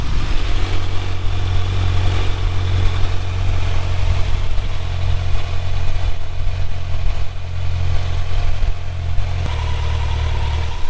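Just after a cold start, a Kawasaki Z900 motorcycle engine idles loud and close with a steady deep rumble, and the pitch settles slightly lower near the end.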